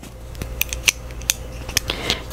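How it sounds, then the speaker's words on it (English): A cardboard subscription box for quilting supplies being cut open with scissors, making a few sharp close snips and rasping cuts in quick succession, with no talk. "let me go ahead and cut open the box"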